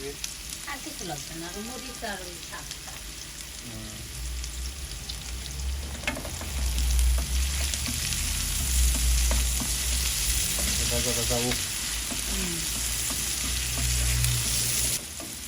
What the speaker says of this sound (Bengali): এই যে আমাদের পেঁয়াজ ভাজা হয়ে গেছে এখন শাক দিয়ে দিবে